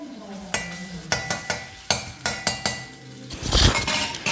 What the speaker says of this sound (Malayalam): ഗോൾഡൻ ബ്രൗൺ കളറാവണ വരെ ഇളക്കാം കേട്ടോ